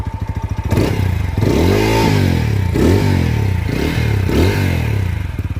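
A TVS Apache RTR 200 4V motorcycle with a double-barrel exhaust idles with a deep, lumpy burble, then revs up in several quick throttle blips that rise and fall, loud and close.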